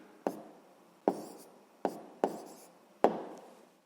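Close and quiet, a pen taps and scratches out the answer to a sixth-grade rational-number addition exercise. Five sharp strokes land at uneven intervals, each fading quickly.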